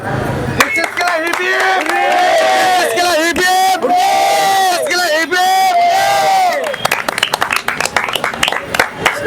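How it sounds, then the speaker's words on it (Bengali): A large crowd at a Durga Puja award announcement in Jiaganj, Murshidabad, claps and cheers loudly, with voices yelling and whooping in rising, chant-like waves before the noise thins into scattered clapping. "একবার জোরে হাততালি"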